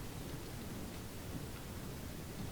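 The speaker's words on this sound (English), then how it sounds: "Of course, it is raining." Rain in the Age of Vikings mod, a soft, steady hiss of falling rain with a faint low rumble like distant thunder, continuous and quiet, with no talking.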